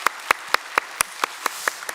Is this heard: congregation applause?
yes